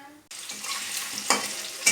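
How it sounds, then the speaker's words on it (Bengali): Potato pieces hit hot oil in a pan with a sudden loud sizzle, then keep frying with a steady hiss and crackle, a spike as more are stirred or added. "আলুগুলোকে এবার ভালো করে ভেজে নিই"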